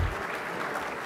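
Steady applause from a conference luncheon audience, dense and continuous clapping throughout with no voices standing out.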